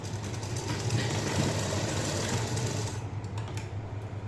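A sewing machine stitching a blouse seam hums with a fast, even mechanical rattle, close and continuous, easing slightly near the end.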